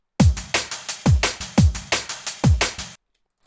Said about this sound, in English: So we will change this snare so it hits alongside the break at the top, so it's in sync